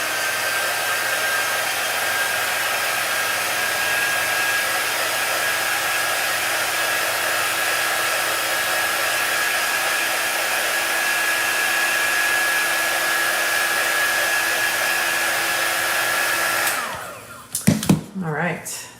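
A hair dryer blows steadily and loudly up close while drying paint, a constant whirring hiss with a thin whine, then clicks off near the end with a few handling knocks.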